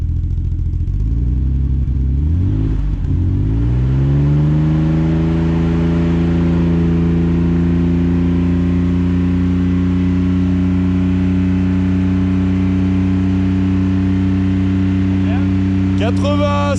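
A bi-turbo car engine with a new silencer climbs from idle and is held steady around 4000 rpm once warm, a loud, sustained drone with strong harmonics that lasts most of the clip before a brief clatter at the end.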